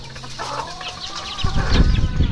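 A white chicken clucks and calls nearby during feeding outdoors, with rustling, pecking and light rain-like patter growing louder toward the end.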